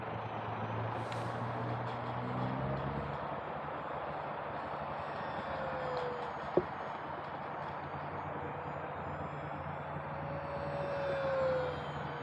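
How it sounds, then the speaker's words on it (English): An E-Flite RV-7 radio-controlled model airplane flies overhead, its electric motor giving a steady, moderately distant drone that swells slightly near the end, with one brief sharp tick midway and no voices. "got a good motor sound as well. No odd prop noise."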